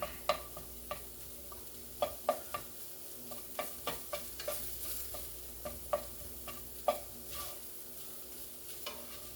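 Flour cooking into hot sausage in a frying pan for gravy, a soft steady sizzle broken by repeated scraping stirs and light spoon taps, quiet and close with no talking.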